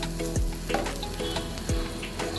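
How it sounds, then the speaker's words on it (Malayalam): Rice stirred and fried in ghee in a pan, with a steady close sizzle throughout and a couple of scraping stirs of a spoon against the pan, loud and alone with no talk. "ഒരു മൂന്നാല് മിനിറ്റോളം ഞാൻ ഈ നെയ്യിൽ അരി ഇളക്കി കൊടുത്തു"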